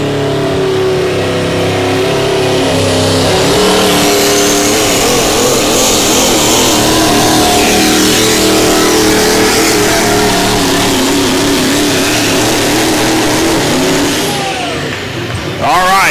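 The Banana Max pulling truck with a Duramax engine on a pull run at an NTPA Grand National truck and tractor pulling event, a loud sustained roaring engine with rising revs, and an announcer talking over it.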